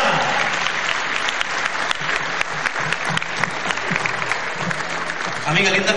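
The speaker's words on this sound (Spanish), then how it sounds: "un gran aplauso en esta tarde a las 20 parejas en competencia" Steady, loud applause from an audience at a regional cueca awards ceremony for older adults, honoring the competing couples, continuous clapping with faint crowd voices underneath.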